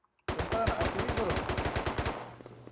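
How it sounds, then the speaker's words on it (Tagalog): Rapid automatic gunfire rattles in a sustained burst during a base raid in the video game Rust, loud and close for about two seconds before cutting off abruptly. "Nagpapalitan sila ng bala. Nagpapalitan ng putok."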